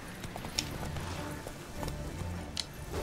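Geralt's horse Roach gallops in The Witcher 3 with a steady, fairly faint rapid clip-clop of hooves and a couple of sharper knocks.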